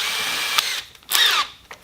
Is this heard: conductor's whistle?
no